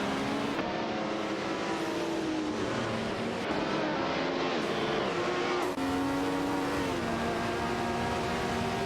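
A Porsche 936 and a Renault Alpine 442B race side by side in a video game, their engines droning steadily with rising and falling pitch as gears shift, a continuous loud roar with no talking.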